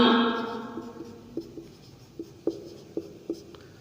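Chalk or marker tapping and scratching on a board during a chemistry lesson, a series of short, sharp strokes at a moderate distance after a fading tone at the start, with no talk.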